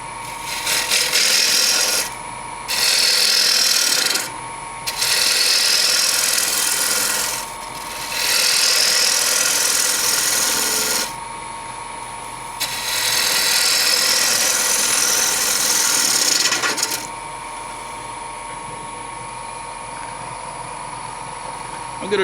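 Wood lathe running at 1200 RPM while turning a natural edge bowl, with loud bursts of gouge cutting and rasping against the spinning wood, separated by short pauses under a constant motor hum.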